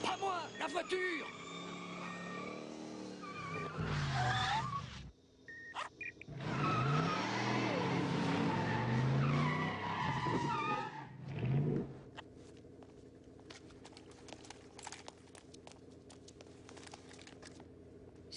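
A small motor whines as a remote-controlled toy car zips around with brief skidding squeals, mixed in with people talking and laughing in French nearby.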